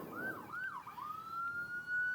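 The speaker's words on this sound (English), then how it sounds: "Got a little ambulance action here." An ambulance siren wails past on a road, a faint, distant wavering tone that rises and dips before settling into a steady high note, heard from a motorcycle.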